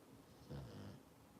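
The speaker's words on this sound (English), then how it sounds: "Well, now they're both snoring. Listen." A single soft snore from a sleeping animal, quiet and close, rising and falling over about a second.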